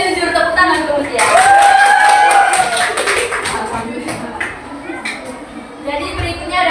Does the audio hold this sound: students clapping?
yes